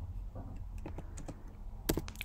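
Typing on a computer keyboard, a quiet run of irregular soft key clicks with a slightly louder cluster of taps near the end, close and without talk.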